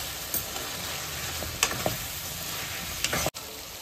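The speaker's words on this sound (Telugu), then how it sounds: "అప్పుడైతే ఈ ఉడకబెట్టిన చికెన్ వేస్తున్నాను." Boiled chicken added to a pan and frying with masala, turmeric and chili powder for a ridge gourd curry: continuous close sizzling with a few sharp spoon clinks and scrapes as it is stirred, no talk.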